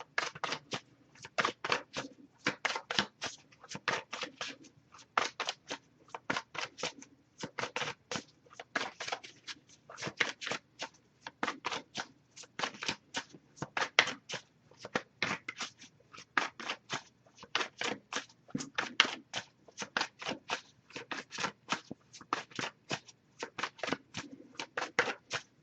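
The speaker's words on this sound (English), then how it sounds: "I'll give it a few more shuffles" A rapid run of crisp tarot card-riffling bursts, shuffled over and over in quick uneven rhythm, close and fairly loud, with no talking.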